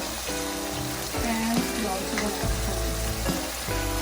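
Honey chilli potatoes sizzle in a pan with sweet and sour and Szechuan sauces, a dense steady frying hiss with scraping stir strokes and a few clunks of a utensil against the pan.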